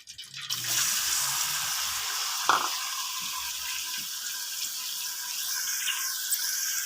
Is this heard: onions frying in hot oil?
yes